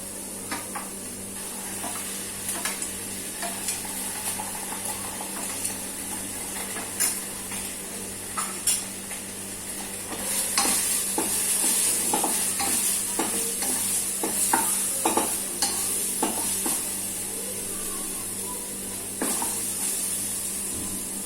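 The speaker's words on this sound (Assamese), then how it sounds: "এইখিনি দিয়াৰ পাছতে পিয়াজত এতিয়া মই আদা নহৰু পেষ্ট দিলোতো এতিয়া এইখিনি যিহেতু ভাজ খাইছে" Ginger garlic paste frying with browned onions in a pan, a steady sizzle under repeated scraping stir strokes of a spatula, growing louder and hissier partway through.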